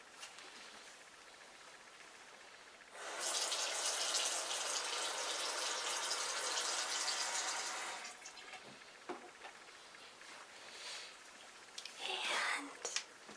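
Water runs steadily from a tap for face washing at bedtime, a broad continuous rush lasting about five seconds, then a few drips and splashes, all close and fairly soft.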